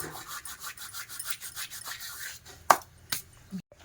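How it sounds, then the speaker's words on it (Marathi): Cumin seeds crushed between the palms and dropped into flour (maida) for a savoury Shankarpale dough make a soft, rhythmic rasping rub, close and quiet, ending in a couple of sharper crackles. "इथे जिरे घेतलेले आहे हे पण अंदाजेच घेतलेले आहे ते पण अशा पद्धतीने हातावरती चोळून याच्यामध्ये मैद्यामध्ये टाकून घेत आहेत"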